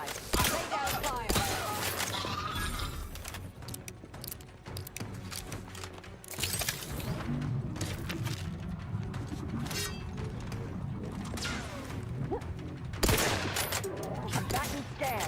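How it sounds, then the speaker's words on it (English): Sustained gunfire in The Outer Worlds 2, dense rapid bursts and sharp impacts crackling throughout, with occasional crashes and a voice speaking under the shooting. "Lay down fire."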